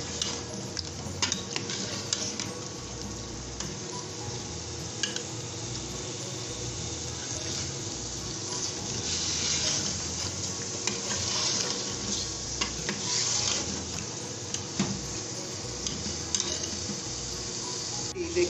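Potatoes and chicken stirred and fried together in a pot for a curry, with a steady sizzle and repeated scraping stirs throughout, no talking.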